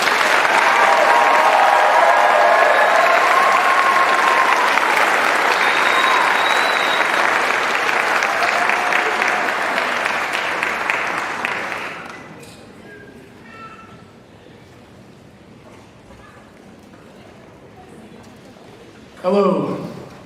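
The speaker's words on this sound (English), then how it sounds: "Please give these students a final round of applause." A crowd at a college graduation ceremony applauds 14 graduating Associate of Arts students, loud sustained clapping for about twelve seconds that fades out into quiet room sound, with a brief voice near the end.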